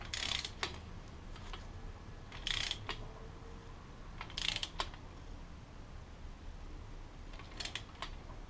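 Torque wrench set to 20 foot-pounds tightening cylinder studs on a Honda CB750 engine, with a few quiet clusters of ratcheting clicks and metallic ticks over a low background rumble, spaced a couple of seconds apart.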